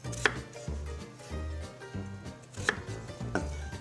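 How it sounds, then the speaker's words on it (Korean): Potatoes being cut into thick half-moon slices with a knife on a board, a few crisp, separate chops with short pauses between them, close and quiet with no talking. "두툼하게 썰어주세요."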